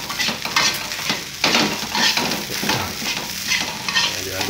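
Nasi goreng is stirred in a hot pan, a close, loud sizzle with rhythmic scraping strokes of a utensil against metal rising and falling every second or so, with no talking.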